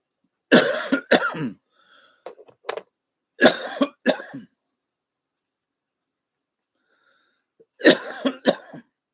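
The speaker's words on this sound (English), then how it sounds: "Made me cough, didn't you?" Three separate bursts of harsh coughing, each a quick double or triple hack, with quieter throat sounds between them in an otherwise silent room.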